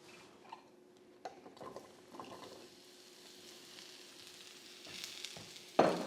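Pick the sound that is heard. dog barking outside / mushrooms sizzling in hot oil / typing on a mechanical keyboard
mushrooms sizzling in hot oil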